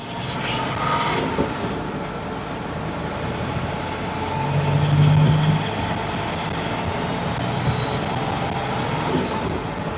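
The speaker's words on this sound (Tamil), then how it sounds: "இப்போ நம்ம வந்து ஹை ஸ்பீடு ட்ராக்ல வெஹிக்கிள் எவ்வளோ ஸ்பீடு போகுது அப்படிங்கிறத பார்க்க போகிறோம்" An Ashok Leyland Saathi light commercial truck drives at speed on a high-speed test track, producing a continuous rumbling drone of engine and road noise with a brief swell midway, steady and without voices.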